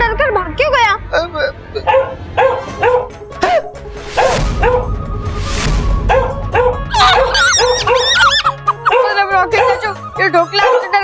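A dog yips, whimpers and barks in excited bursts over a busy mix of lively talk, with a louder stretch of noise in the middle in a Hindi television episode.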